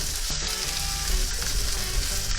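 Thin strips of ginger fry in a hot pan for escabeche, a steady, loud, close sizzle with no pauses.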